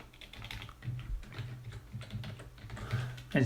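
Rapid keystrokes on a computer keyboard clatter in an irregular stream while messages are typed into a chat app's code, close and fairly quiet, with a louder burst of keys near the end and no talking.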